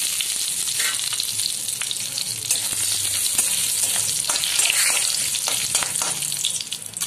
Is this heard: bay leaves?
yes